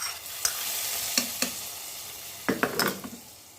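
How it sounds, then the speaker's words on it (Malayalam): Cherupayar payasam (green gram pradhaman for a sadya) is stirred in a pan: a steady sizzle with several sharp scraping strokes of the spoon against the pan, close and fairly loud, with no talking. "അത് എല്ലാം കൂടെ ചേർത്ത് നമുക്ക് നന്നായിട്ട് മിക്സ് ചെയ്യാം കേട്ടോ"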